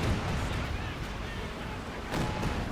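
Liberty organ rocket barrage in Company of Heroes 2, a dense rumbling roar of rockets and explosions with a fresh burst near the end, under a continuous blanket of battle noise.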